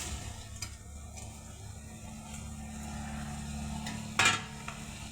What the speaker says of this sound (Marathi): असं छान चाळून देऊ.